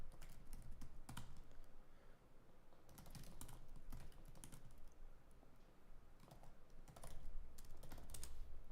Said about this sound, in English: Here, I'll just type it up.